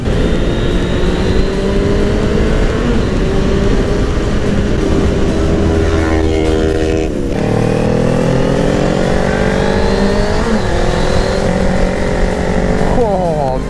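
A Suzuki Bandit 600 motorcycle ridden at night roars loudly and continuously, its engine pitch climbing and dropping through gear changes as it accelerates, with wind rush throughout.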